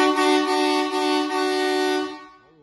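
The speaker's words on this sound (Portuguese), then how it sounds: "Escuta essa buzina marítima dupla." A loud, sustained twin-tone dual marine air horn fitted to a Toyota Hilux pickup blares for about two seconds, then cuts off abruptly.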